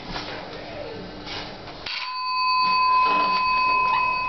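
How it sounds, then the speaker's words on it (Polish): A doorbell of unknown brand rings in a home, a steady electronic chime tone sustained for a couple of seconds after quieter background noise with faint talk. "Tak dzwoni ten dzwonek."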